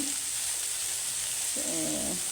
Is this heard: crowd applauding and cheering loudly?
no